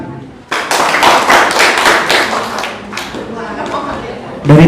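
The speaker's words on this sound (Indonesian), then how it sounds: "Tepuk tangan." Audience at a swearing-in ceremony for polling station supervisors in Ganding, Sumenep, breaks into clapping, a loud burst of hands starting abruptly and continuing with some chatter mixed in, with a sharper thump near the end.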